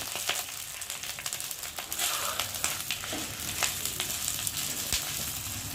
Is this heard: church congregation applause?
no